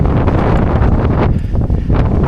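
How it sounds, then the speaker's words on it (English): Strong wind buffets the microphone in loud, continuous gusts on a countryside walk from Burley to Shipley Glen, roaring and rumbling with no voices. "It's very windy today."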